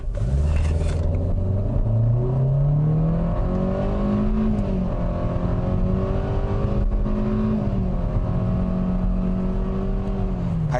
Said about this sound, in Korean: 그럼 발진을 한번 해보겠습니다.